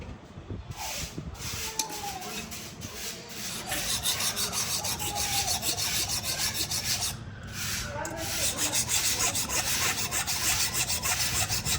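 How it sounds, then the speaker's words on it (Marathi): Steady rasping and rubbing of a file polishing the notches of a newly cut car key, continuous and fairly close for the whole stretch with no talk. "हे सगळं बनवताना खाचा पॉलिश केलं जातं"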